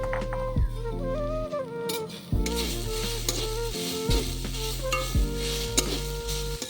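A spoon or spatula stirs grated coconut filling for patisapta pitha in a pan, with soft scraping and a light sizzle beneath a musical backing that plays throughout.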